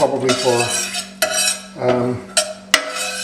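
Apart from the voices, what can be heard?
stirring cardamom pods and cloves in hot oil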